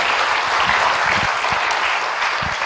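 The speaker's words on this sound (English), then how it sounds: "round of applause for Jaideep." Steady, dense clapping from a crowd fills the whole stretch, a continuous round of applause with no voices standing out.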